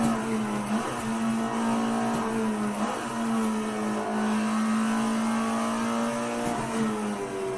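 An Alfa Romeo 33 Stradale in Assetto Corsa on the Nordschleife, its engine holding a loud, steady high rev with a strong tonal drone that rises and dips slightly as it pulls through the gears.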